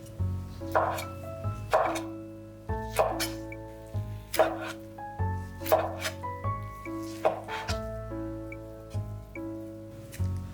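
Soaked shiitake mushrooms sliced thickly with a knife on a cutting board, about eight evenly spaced firm knocks, close up, playing under continuous tonal background music with no speech.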